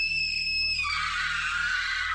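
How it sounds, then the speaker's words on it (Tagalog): A girl's scream used as a sound effect in a Tagalog horror story: one long, loud, shrill cry that rises and holds, with no talking. "Sumisigaw siya."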